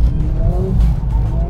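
A Mercedes A45S powersliding under throttle, loud engine roar with rising and falling tire squeal tones running throughout the short burst, close and continuous.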